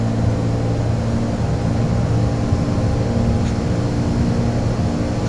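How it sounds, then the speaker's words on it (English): A steady, droning propeller-plane engine hum from Microsoft Flight Simulator 2024 runs continuously at an even level, with no voices. "I like the sounds of this plane."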